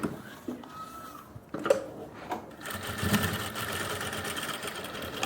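Sewing machine stitching along the margin of a pair of women's pants: a few soft handling clicks, then a steady, close running whir that continues to the end.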